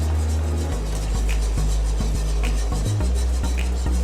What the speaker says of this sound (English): Might actually use a little bit of a whisk to whisk that up